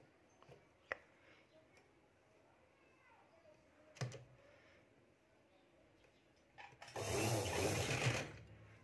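A sewing machine stitches lace onto a sleeve, with a few sharp clicks and taps before a loud, close burst of whirring stitching lasting about two seconds near the end; a voice talks faintly earlier.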